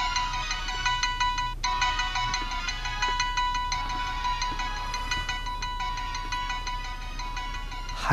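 A mobile phone ringtone plays loud and close without a break, a bright repeating electronic melody with no voices over it.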